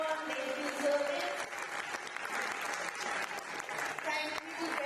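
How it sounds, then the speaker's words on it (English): A crowd at an aquatic federation awards ceremony gives sustained applause for honourees, steady and full for several seconds with a murmur of voices underneath. "Let's give them a round of applause, everyone."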